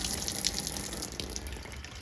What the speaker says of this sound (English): It's running down the drain.